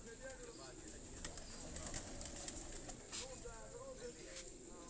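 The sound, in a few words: pigeon cooing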